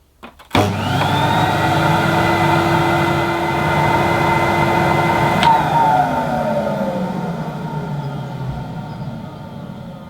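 A 1974 Electrolux 330 cylinder vacuum cleaner runs with its old hose attached, starting abruptly with a steady loud motor drone and airflow whine, then spinning down gradually toward the end, with no talk.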